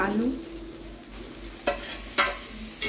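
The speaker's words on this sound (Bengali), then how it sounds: "আলুটা দিয়ে নেড়ে নেড়ে একটু নেড়ে নেব" Potatoes frying in a pan with a soft continuous sizzle, broken by a few sharp scrapes and clinks of a spoon stirring, close by and without talk.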